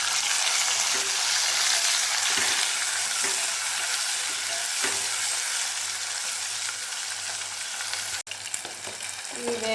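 Tomatoes with green chillies frying in a pan for Bombay chutney, giving a loud, continuous close sizzle with faint stirring knocks and a sharp click near the end.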